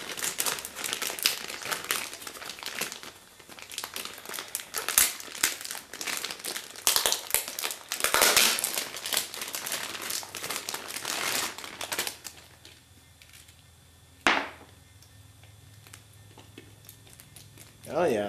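Unwrapping an Atari 2600 joystick from packing peanuts and wrapping, with dense close crinkling and rustling of plastic that fades out, followed by a single sharp crackle and a quieter stretch.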